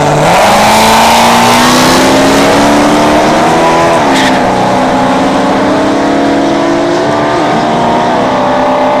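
A C3 Corvette drag car runs down a dragstrip at a test-and-tune event. Its engine roars loud and close, pitching up through several shifts as it accelerates hard.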